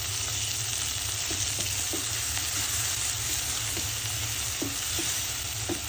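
Small, oily hilsa fish frying in oil with plenty of onions, giving a dense, constant sizzle with faint occasional clicks of a utensil in the pan.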